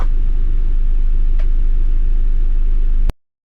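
Race car engines in a racing sim, either Assetto Corsa or Gran Turismo 7, give a loud, steady rumbling drone for about three seconds, broken by one brief click, before the sound cuts off abruptly into silence.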